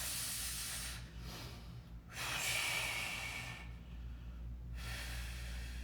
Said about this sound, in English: exhale and push